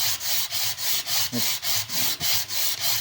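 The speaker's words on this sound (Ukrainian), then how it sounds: "Ну і другу сторону так само підганяємо соточку." A scooter reed valve being rubbed back and forth on 100-grit sandpaper, steady rhythmic rasping strokes about three per second, close and loud, with no talking.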